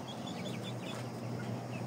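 Chickens, including shamo and Indio Gigante breeds, cluck and call softly at feeding time on a farm, alongside turkeys. Short bird calls repeat faintly over a steady background hum, with no one talking.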